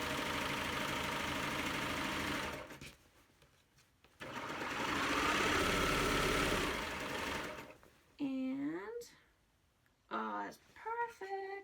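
A serger trims a fabric edge while a pillowcase is made, running in loud close bursts of steady mechanical whirring that stop and start, with someone talking briefly in the quieter gaps.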